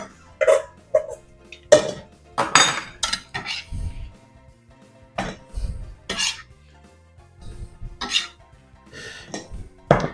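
Chopped raw meat for tartare being moved into a bowl, scattered clinks and scrapes of utensils against the container, close and irregular, with coughs and brief vocal sounds in between.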